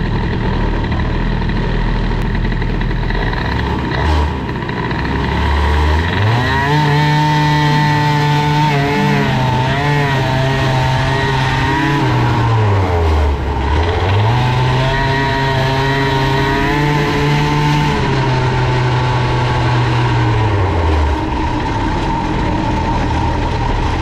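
A scooter engine fitted with an Airsal XT 77 kit, running at very low throttle. It drones loudly and steadily, with its pitch rising and settling in two smooth swells.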